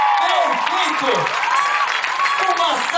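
An arena crowd applauds Brazilian gymnast Daiane dos Santos at a gymnastics event, a dense, steady wash of clapping and cheering throughout while a voice talks over it.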